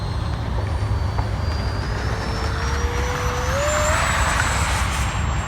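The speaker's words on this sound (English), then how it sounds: "T-33 Shooting Star Ruby with our new heel fixed. All right, let's take off." A Freewing T-33 Shooting Star RC model jet takes off with a steady, loud jet whine and broad rumble, a rising tone sweeping upward as it accelerates, alone without talk.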